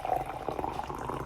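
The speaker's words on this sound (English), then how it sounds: "boil some water, and then pour 1 cup" Water that has just been boiled is poured steadily into a container, a continuous soft splashing and trickling stream heard up close with no one talking.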